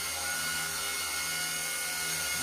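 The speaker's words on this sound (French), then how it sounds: "Un bon petit hélicoptère, super taille, capable de toute hauteur aussi." An Eachine E130 RC toy helicopter's rotor whirs in a steady, high-pitched buzz close by, holding constant before a slight shift near the end, with no talking.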